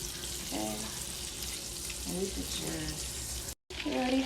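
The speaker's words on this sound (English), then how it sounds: "we're going to go ahead and add the butter to our pan" Butter sizzles and melts in a frying pan beside simmering meat, a steady close hiss that cuts out briefly near the end, with someone talking over it.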